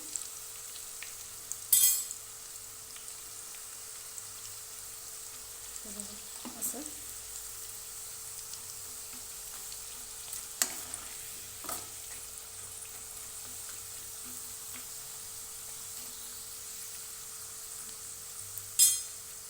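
Raw banana chips fry in hot oil over a high gas flame until crispy, giving a continuous soft sizzle and hiss with occasional clinks of a utensil.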